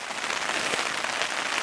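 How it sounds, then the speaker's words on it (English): Heavy rain drums steadily on a tent during an archery elk hunt in Colorado, a dense close hiss of drops with no talk. "Well, it's pouring down rain here in the tent."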